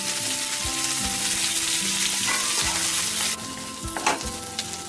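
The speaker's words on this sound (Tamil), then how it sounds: "இது கொஞ்சம் வதங்கட்டும்." Vegetables sautéing in a pan for Aachi-style carrot sambar and ridge gourd kootu, a steady close sizzle and fry with occasional stirring clinks and scrapes throughout, no talking.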